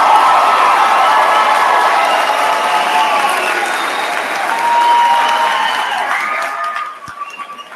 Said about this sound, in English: Let's please give them a huge raucous round of applause.